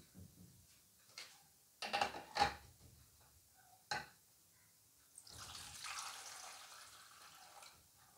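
Vinegar is poured into a small cup, giving a soft, continuous liquid rush that lasts a few seconds. It follows a few quiet clinks and knocks of kitchen handling.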